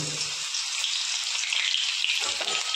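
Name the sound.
ginger garlic paste sizzling in hot oil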